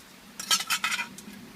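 Metal stove parts of a Kelly Kettle camping kettle are packed together into the kettle, making a quick, close cluster of bright metallic clinks and rattles lasting under a second over a quiet background.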